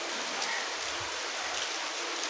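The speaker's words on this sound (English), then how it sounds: "the rain right now is pretty good, well, kinda heavy too" Heavy rain pours in a steady broadband hiss, close and constant, with a few faint low thumps underneath.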